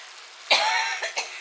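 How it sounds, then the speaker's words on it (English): A person coughing from Cajun seasoning while cooking dirty cabbage: one sharp cough followed by two shorter ones, close and fairly loud over a faint background hiss. "That Cajun seasoning, for some reason, always makes me cough."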